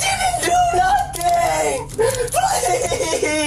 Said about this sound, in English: Can you stop screaming?